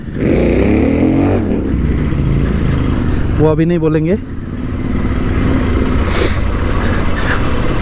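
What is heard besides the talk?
Royal Enfield motorcycle riding slowly in a group ride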